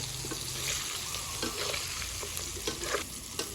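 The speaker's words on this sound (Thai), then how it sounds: "เขาก็ทอดเนื้อปลามาได้หานาทีแล้วจ้ะ เนื้อปลาสุกเหลืองกรอบได้ตามที่เขาต้องการแล้ว" Fish pieces fry in hot oil until golden and crisp, giving a steady moderate crackle and hiss with scattered pops and light utensil scrapes.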